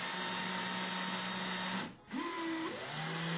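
Power drill spinning a bit while being centred on a fishing float, a steady high whine that dips and briefly cuts out, then spins back up with a rising pitch, quiet and close.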